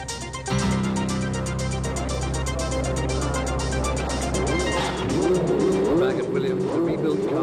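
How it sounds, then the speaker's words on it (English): A rebuilt 1991 Formula One race car engine fires up and runs with a loud, steady, buzzing high-revving drone that shifts in pitch toward the end, with faint talk underneath. "The rebuilt car is fired up."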